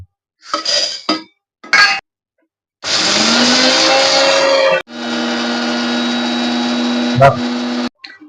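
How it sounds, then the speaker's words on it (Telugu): A mixer grinder powders roasted black gram (urad dal), first in brief pulses and then in two long, loud, steady whirring runs, with a clink near the end. "ముందుగా మనం మినపగుండ్లను పౌడర్ చేసుకుందాం"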